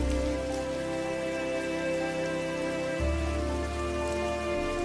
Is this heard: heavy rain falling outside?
yes